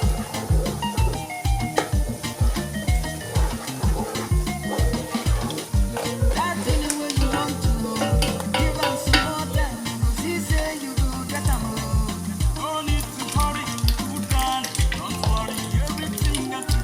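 Onions fry in a pot for a Nigerian beans and corn porridge, with a steady loud sizzle and rhythmic stirring scrapes repeating throughout, with no talk.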